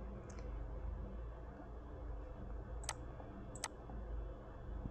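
Two sharp mouse clicks about a second apart, made while using an Android emulator app, stand out over a steady low background hum.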